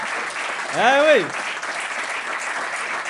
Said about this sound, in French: On peut applaudir Rémi qui est au son ce soir ?